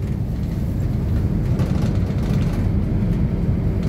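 An East Midlands Railway class 170 diesel train running between Lincoln and Barnetby makes a steady, loud low rumble with constant rolling noise.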